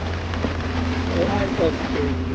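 Rain falls on the Mahendragiri hill near Chiplun, a soft steady patter with scattered drops, and faint voices murmur underneath.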